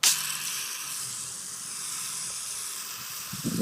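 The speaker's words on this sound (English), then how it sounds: "bat nozzle, the shower nozzle." A shower-pattern hose nozzle sprays water in a steady, broad, bright hiss that stays even and close throughout, with no talking.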